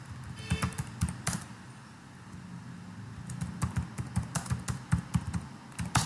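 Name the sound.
typing a search on a computer keyboard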